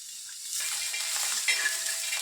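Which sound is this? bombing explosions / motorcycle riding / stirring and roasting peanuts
stirring and roasting peanuts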